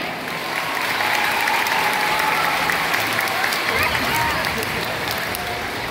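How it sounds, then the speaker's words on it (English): An audience at a SeaWorld beluga and dolphin show claps and cheers loudly for the full stretch, a dense steady wash of applause with crowd noise mixed in. "Let's give them a hand."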